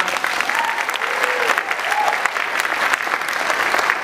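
A crowd at a 2014 Jeunesse company gathering applauds its executives in a dense, even wash of clapping that holds steady for the whole stretch, with faint voices underneath.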